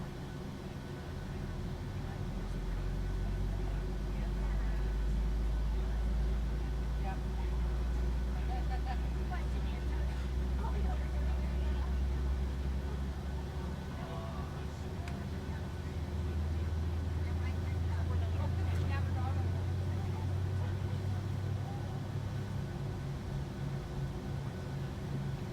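Aircraft engines spool up in Microsoft Flight Simulator 2020 on an airliner departing Iceland's Keflavik, a steady low rumble building and shifting pitch under continuous talk.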